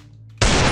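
A Desert Eagle pistol fires in the Free Fire Max video game: a single loud, sudden shot bursts in after a quiet low hum and rings out heavily to the end.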